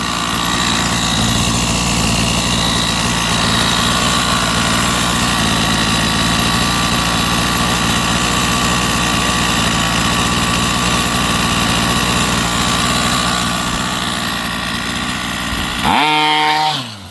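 A repaired Rovan 45cc engine runs loudly and continuously with a buzzy, rough drone and steady vibration, then suddenly cuts off and sputters into quiet at the very end.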